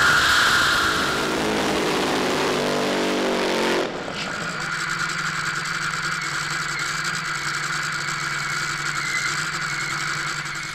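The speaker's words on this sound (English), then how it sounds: "we've got some Top Fuel exhibition passes about to come our way here at the Summit Racing Equipment Grand Final." Top Fuel drag racing cars make exhibition passes at a drag meeting at Adelaide International Raceway. Their loud, continuous engine roar fills the clip, with an abrupt change in tone partway through as the sound settles into a sustained, rougher drone.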